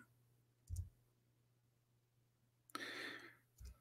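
Computer keyboard clicking, heard as a few faint, isolated taps and one short rattling burst of keystrokes in an otherwise quiet room.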